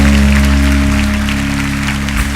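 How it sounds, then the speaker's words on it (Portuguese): A church congregation applauds the Lord during a worship service, loud steady clapping over a sustained low organ or keyboard drone. "Vamos aplaudir ao Senhor, que Ele merece"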